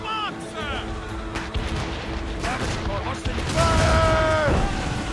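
Ship cannons firing in the Assassin's Creed Rogue video game, heavy booms rolling under shouted crew commands, with whistling tones and a rising roar of battle noise toward the end.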